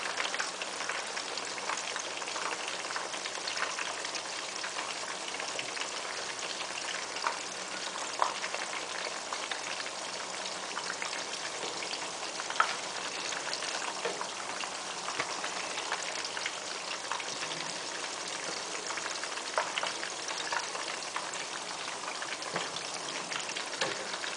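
Kotlet meat patties frying in a pan, a steady dense sizzle and crackle of hot oil that continues evenly throughout, close and fairly soft with no talking.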